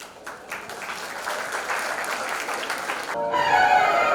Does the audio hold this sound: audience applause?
yes